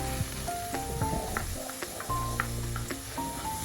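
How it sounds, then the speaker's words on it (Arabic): Onion and garlic fry in a pan, a soft steady sizzle with occasional scraping and stirring sounds, heard up close and alone without speech. "وتنشحر هاد البصيله هي والثومه"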